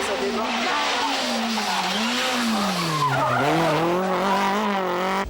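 A rally car races flat out through a fast forest stage at the Alsace-Vosges rally near Strasbourg. Its engine drones loudly and steadily, the pitch rising and falling with gear changes, and tyres hiss over the road throughout.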